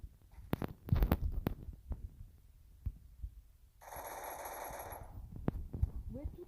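Gunfire in the Free Fire video game, a scattered run of quick sharp shots followed by a sustained ringing buzz and a few more pops, fairly faint overall.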